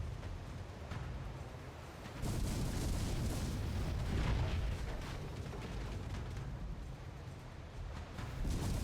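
Ship cannons firing back and forth in a naval battle in Port Royale 4, a dense continuous rumble of booms and blasts, loud and sustained throughout, swelling after a couple of seconds, with no talk.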